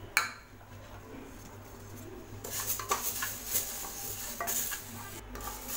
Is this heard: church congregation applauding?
no